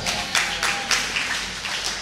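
A church congregation claps together in a steady rhythm, sharp regular beats about three per second over a soft hall ambience, with no voices.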